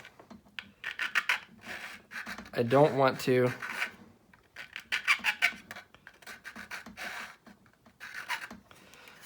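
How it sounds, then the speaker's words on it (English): Rhythmic rasping strokes of a metal file rubbing on a plastic 1/32 scale Spitfire model, close up, in short bursts, with a person briefly talking partway through. "So I'm just lightly going over with my file."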